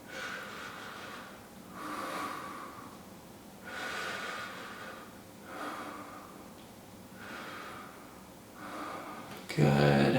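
Slow, deep breaths drawn in and let out during a seated stretch with the upper body turned to the right and the head to the left, about five steady breaths in a regular rhythm, close and soft.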